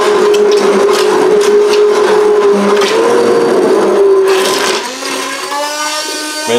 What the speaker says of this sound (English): This is just a basic shop brand blender, and it's perfect for the job.